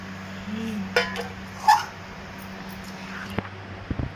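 A child's small plate being handled in a home kitchen: a few light clinks and taps of the dish at scattered moments, ending in quick clattering knocks, close over a quiet steady hum.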